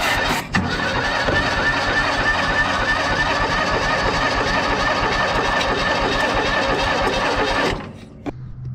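A John Deere Gator utility vehicle's engine cranks on the starter and runs, a loud continuous mechanical drone close by that holds steady for several seconds before cutting off near the end.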